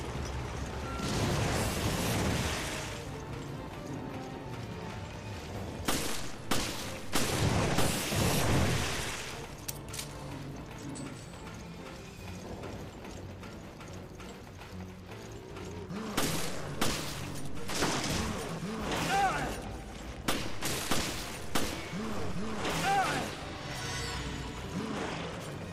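Gunfire in the video game Resident Evil Revelations, with repeated loud bursts of shots that cluster in heavy volleys and continue steadily under a dense game soundscape.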